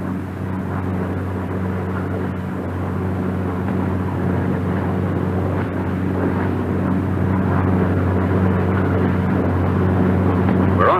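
A Republic P-47 Thunderbolt fighter in flight, its engine giving a loud, steady droning roar that holds for several seconds with no break.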